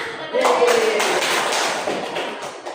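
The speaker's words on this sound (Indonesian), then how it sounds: "Sekarang mau tepuk tangan untuk kalian semua." Children clap their hands together in a classroom after a story, a dense burst of overlapping claps starting a moment in and continuing steadily, with voices mixed in.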